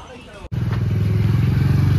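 A rented Bajaj Pulsar 150 motorcycle starts up with a sharp burst, then idles steadily and loudly up close with a low, even engine throb and no talk over it.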